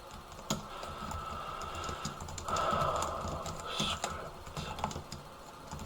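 Fingers type notes into Notepad on a computer keyboard, making a quick, uneven run of light clicking keystrokes at close range with short pauses between bursts.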